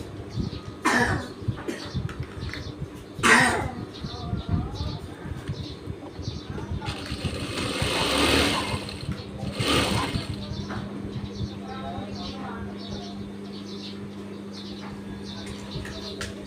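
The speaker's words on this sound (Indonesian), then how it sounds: "Kemudian kita jahit pinggirnya kain kantong." A sewing machine stitches the edge of the pocket lining fabric on a man's trousers in a tailoring workshop, short buzzing runs under a person talking, with a cough nearby.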